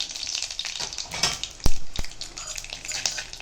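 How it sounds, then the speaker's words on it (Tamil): Dried chili, mustard seeds and split lentils crackle and sizzle in hot oil for a tempering, a steady close frying hiss broken by a couple of sharp pops. "காஞ்ச மிளகா ஒன்று, கடுகு, உளுத்தம்பருப்பு, கடலைப்பருப்பு இதெல்லாம் போட்டு தாளிச்சிக்கலாம்."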